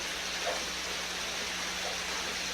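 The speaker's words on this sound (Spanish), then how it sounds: "No ha parado de llover." Steady rain falling outdoors, a constant faint hiss of drops with no distinct hits and no one talking.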